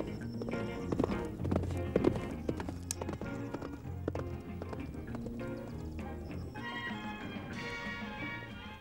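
Akhal-Teke horse hooves clip-clop in a steady rhythm, blended with a full musical score and occasional whinny-like tones at moderate level.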